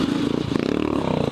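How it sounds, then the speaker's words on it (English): A car engine idling rough with a misfire on cylinder 2, a continuous close chugging drone with an uneven pulsing beat and rattly clatter throughout. "here there was a misfire on cylinder 2"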